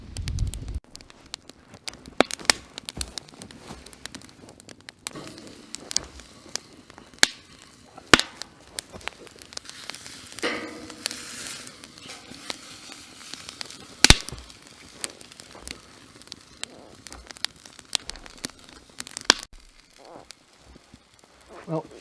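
A wood fire crackles at an evening cabin cookout for a bacon-wrapped steak, with sparse sharp pops and snaps scattered over a low steady hiss, fairly close and moderately loud.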